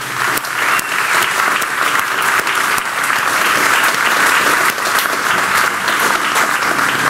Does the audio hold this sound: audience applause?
yes